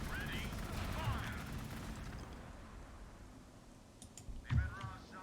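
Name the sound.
gunfire from video game Gladius, Astra Militarum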